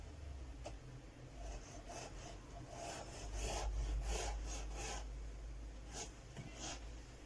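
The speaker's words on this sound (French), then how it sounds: "Je trace un premier trait." A pencil scratches along a set square as a line is drawn on paper, making a soft, dry rubbing stroke with a few brief scrapes, close and quiet.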